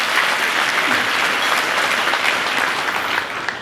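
A civic audience at a city's annual State of the City address gives a band a round of applause, dense steady clapping from many hands throughout, fading slightly at the end.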